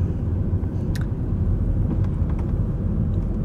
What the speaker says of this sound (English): Do you feel that the car is driving smooth?